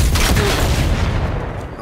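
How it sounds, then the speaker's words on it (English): Explosions and gunfire in The Last of Us Part 2 Remastered, a dense, continuous loud barrage of booms and crackling shots filling the whole stretch, fading slightly toward the end. "these people are gonna hear these explosions"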